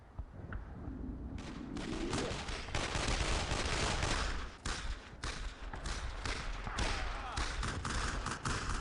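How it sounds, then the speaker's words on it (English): An MG-42 machine gun fires in the World War II shooter Brothers in Arms: Road to Hill 30, loud sustained bursts of gunfire mixed with battlefield thumps, and someone speaks over it. "Machine gun! MG-42!"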